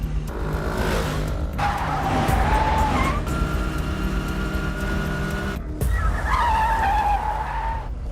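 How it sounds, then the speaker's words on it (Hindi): A vehicle speeds away during a chase scene in a Hindi-dubbed action film, with continuous engine roar and tire skids sweeping over about eight seconds, loud and close, backed by music. "भाई वो स्कूटर से भाग रहा है।"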